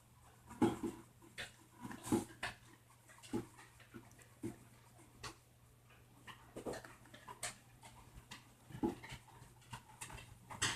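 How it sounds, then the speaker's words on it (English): Dogs move about in the background of a quiet room, going up and down stairs, with a string of faint, irregular pattering and panting sounds spaced across the quiet. "You can hear my dogs in the background."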